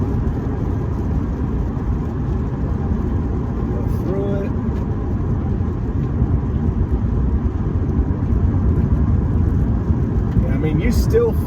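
A 2021 Lexus RC F Fuji Speedway Edition, a car of close to two tons, takes a curve with a steady, loud engine and road drone that rises slightly toward the end, while someone talks over it.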